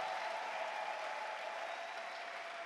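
A church congregation applauds and cheers during a French-language sermon, a steady, dense wash of clapping from a large crowd that holds for the whole stretch.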